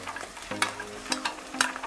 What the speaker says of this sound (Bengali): পেস্টটা দিয়ে কিছুক্ষণ নাড়বেন যতক্ষণ না তেল ছাড়ছে।